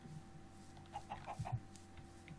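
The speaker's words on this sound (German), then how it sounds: "Aber hier laufen doch lauter Hühner rum." Chickens in the Minecraft video game cluck in a short run of soft, clipped calls over a faint steady background hum, with no talk over them.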